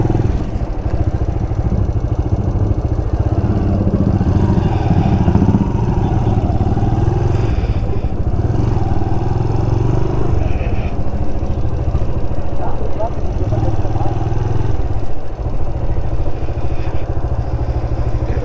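A motorcycle engine runs steadily at low idle while the bike is being parked outside Thiruttani Murugan temple, a continuous close rumble with some clatter and street noise around it.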